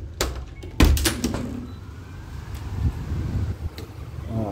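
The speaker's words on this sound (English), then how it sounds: "I'm gonna try and open the door while arming and see" A house door fitted with an ADT alarm door sensor is opened while the system is armed, giving a few close, sharp knocks and rattles followed by a quieter stretch of handling noise.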